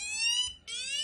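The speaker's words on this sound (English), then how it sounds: "it will activate the sirens until the barrier is moved" Portable IoT security alarm siren blaring a harsh, high electronic tone with rich overtones, sounding in two bursts separated by a short break, close and loud.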